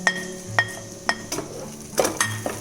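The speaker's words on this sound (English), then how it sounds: "In go your 1 teaspoon of cumin seeds or jeera." Cumin seeds sauteing in salted butter in a pan for pav bhaji, with a spoon clinking against the pan several times at an uneven beat over a low frying hiss, close and alone.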